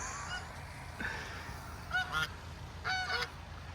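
Several loud honks from mature geese on a pasture farm come in bursts over a steady low background rumble, clustered near the middle and end.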